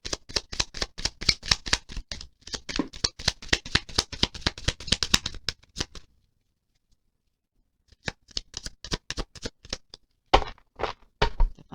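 Tarot cards are shuffled in quick, crisp riffles for several seconds, then a pause of near silence before more short shuffling bursts, close and fairly quiet.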